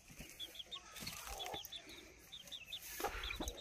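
Young chicks about ten days old at a poultry rearing spot give repeated soft, high chirps and clucks in a steady scatter, with brief wing flutters and light scuffling nearby.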